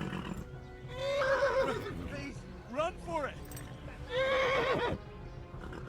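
A horse in the video game Kingdom Come: Deliverance neighs loudly in repeated whinnies while someone speaks over it.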